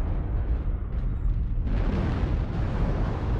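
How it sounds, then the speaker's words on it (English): Missile explosions in MechWarrior Online: a heavy, rumbling blast roars low and continuous, with a second surge of booming noise partway through, close and loud with no talk. "Warning, incoming missile."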